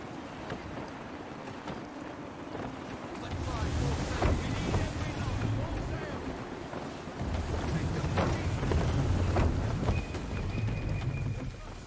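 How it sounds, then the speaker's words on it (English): Gusty wind and rolling sea wash steadily around a sailing ship in Assassin's Creed III, swelling louder after a few seconds and surging in waves of noise with water sloshing beneath. "Gusty winds can be difficult to manage."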